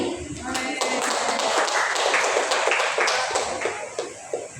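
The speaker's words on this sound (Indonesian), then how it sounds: "beri tepuk tangan untuk Ibu Tamuli" Audience clapping at a district-level school storytelling competition, starting with a few sharp claps that swell into a brisk burst of applause before thinning out into scattered final claps.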